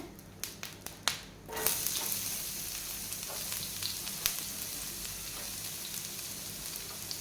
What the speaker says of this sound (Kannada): ಎಣ್ಣೆ ಬಿಸಿಯಾಗಿದೆ ನಾನು ಇದಕ್ಕೆ ಕರಿಬೇವಿನ ಸೊಪ್ಪನ್ನು ಹಾಕ್ಕೊಳ್ತಾ ಇದ್ದೀನಿ ಹಾಗೆ ಸ್ವಲ್ಪ ಈರುಳ್ಳಿಯನ್ನು ಹಾಕೊಳ್ತಾ ಇದ್ದೇನೆ